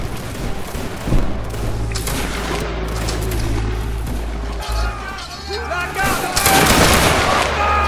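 Musket volleys crack out in a multiplayer Napoleonic-era battle game with French line infantry, loud overlapping gunfire bursts over a low rumble, with players talking throughout.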